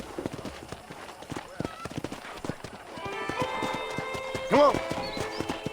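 Horse hooves clip-clop in a steady walking rhythm in the video game Red Dead Redemption, joined by a brief whinny, while a voice speaks over the plodding steps.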